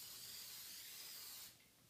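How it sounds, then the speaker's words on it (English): Spray glue hisses onto a hard board in one continuous close burst, then tapers off before a short fresh puff at the end. "Spray it like so."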